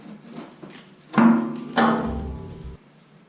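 Side cover of a Bandit SG40 stump grinder being pulled off, two close, loud metallic clunks and scrapes about half a second apart, ringing briefly with a low rumble, over a quiet background.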